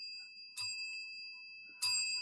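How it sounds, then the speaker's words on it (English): Two bright metallic bell dings, sharp and clear, spaced just over a second apart against a faint steady electronic tone, close and alone with no talk. "That's 3 bells."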